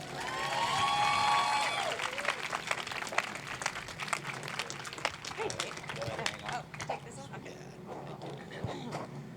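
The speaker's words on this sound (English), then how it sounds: "Please give a big round of applause to our next guest, Kirsten Lepore." A live audience claps and cheers as a guest is welcomed to the stage at an interview event, with loud applause in the opening seconds that thins into scattered clapping and crowd noise.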